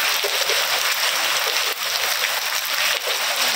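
Heavy rain hisses continuously, with a couple of brief sharp cracks of lightning cutting through the downpour; no one speaks.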